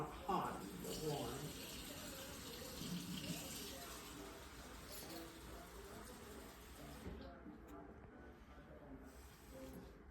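A kitchen tap runs warm water into a cup for activating yeast while making orange rolls, a steady close splashing hiss that continues under conversational voices before tapering off near the end.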